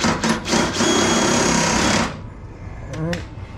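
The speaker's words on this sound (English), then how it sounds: "I've been drilling so many spot welds out" Drill boring out spot welds on car body sheet metal during Chevy Nova work, a loud close whine for about two seconds after short bursts, then quieter shop noise with someone talking.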